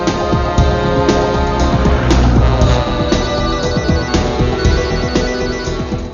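A loud ringtone melody plays continuously over a busy musical background, repeating its tune without pause.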